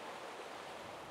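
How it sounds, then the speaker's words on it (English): Fast-flowing river water swirls around a whirlpool on a steelhead river. The rushing is steady and dense, like a close stream, with no talk. "fast water here, and I noticed this soft water on the inside where that whirlpool goes around"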